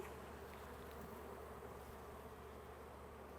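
Dense, steady buzzing of many honey bees inside a hive, a close low hum that continues without a break, quiet overall.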